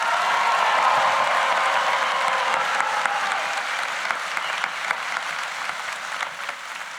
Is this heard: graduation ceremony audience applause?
yes